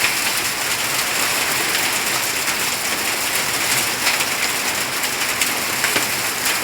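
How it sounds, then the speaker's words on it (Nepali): Heavy hail pounds down during a storm in Sikkim, a dense, constant hiss of hailstones striking surfaces that stays loud and even from start to finish, with no voices. "एकदमै डरलाग्दो असिना आएको छ।"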